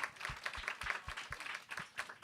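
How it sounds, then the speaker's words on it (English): Audience applause welcoming a book author and her interviewer onto a stage at a talk, a quiet patter of clapping hands with low thumps, steady for a couple of seconds. "Let's give them a big round of applause."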